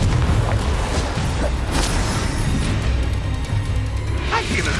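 Confringo fire spells explode in Hogwarts Legacy on Nintendo Switch during combat, with dense, loud, continuous booming and crackling bursts layered over battle noise.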